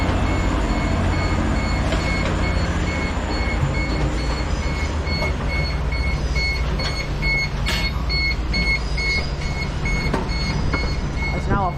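An Avanti train pulls out of Manchester Piccadilly station with a loud, steady rumble and a high tonal whine, with bright squeals and clanks over it and a voice talking faintly.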